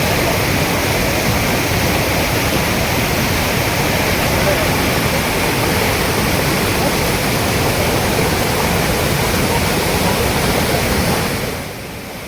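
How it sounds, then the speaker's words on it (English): Dhuadhar Waterfall at Jabalpur roars as a loud, steady broadband rush of falling water, constant throughout before dropping off slightly at the very end. "we are at Dhuadhar Waterfall at Jabalpur"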